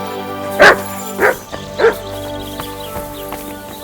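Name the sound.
dog barking in Kingdom Come: Deliverance 2 video game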